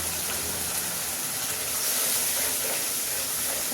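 Spices and ground white pepper sauté in a pan for egg malai curry. The sizzle is a soft, steady hiss that stays fairly faint throughout, with no talking.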